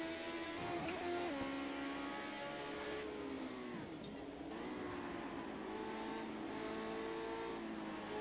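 A race car engine in Project Cars 2 revs at high RPM in a continuous loud, buzzing whine that rises and dips slightly as the car accelerates, with no pause.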